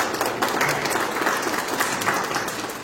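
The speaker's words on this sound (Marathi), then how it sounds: "मी याच्यासाठी बोलायला उभी राहिली की शिरपूर जोरात टाळ्या वाजवा." An audience at a Marathi school pre-school preparation training session claps loudly together, a dense, continuous burst of applause that fills the room.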